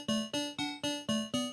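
Frogger-style video game level start sound: six evenly spaced chiptune tones, each a bright square-wave blip that decays quickly, repeating in a steady pulse at moderate volume with no talking.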